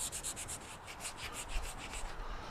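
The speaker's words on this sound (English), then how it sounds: "So I'm just cleaning up right now all of the WD-40 that I use to try to get this thing to loosen up." Bolts and spacer plates are wiped clean of WD-40 and two decades of rust and dust, giving steady, close rubbing strokes in a quick repeating rhythm with no talk.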